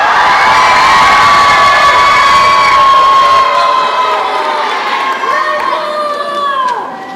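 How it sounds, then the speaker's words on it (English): A live audience at the Chidon HaTanach 2024 Bible quiz event cheers loudly and steadily, a dense crowd roar with children shouting and whooping, holding strong for about seven seconds before tapering slightly at the end. "everybody cheer!"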